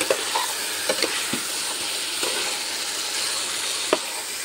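Fish frying in hot spiced oil in a pan, a steady sizzle with occasional soft scrapes and clinks of stirring, close and even throughout with no voices.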